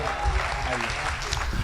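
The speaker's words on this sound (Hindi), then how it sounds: "जोरदार तालियों से" An audience at a Hindi comedy poetry gathering breaks into applause to welcome a poet, a short burst of clapping heard close with a voice over it.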